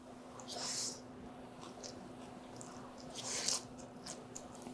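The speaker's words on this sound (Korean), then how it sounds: "바삭바삭 씹히는 소리 들리시죠?" Close, crisp crunching as a fried perilla leaf pancake is bitten and chewed, with a few louder crackly bites over quiet mouth sounds.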